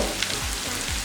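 Mutton chops fry with powdered spices on a tawa, a steady close crackling sizzle with faint stirring scrapes, no voices.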